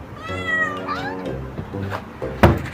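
Cats in a longest-meow contest let out drawn-out, wavering meows one after another, close and clear, ending in a sharp louder yowl, with soft speech faintly underneath.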